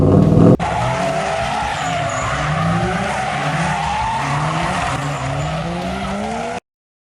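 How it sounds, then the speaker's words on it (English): A Dodge Challenger muscle car roars with a loud, sustained engine note and rising revs while its tires skid and squeal throughout, close and powerful, after a brief burst at the start. "The thunderous roar of hundreds of horsepower."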